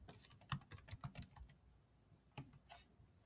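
Typing on a computer keyboard gives a quiet run of close, crisp key clicks, a quick cluster at first, then a pause before a few more scattered taps.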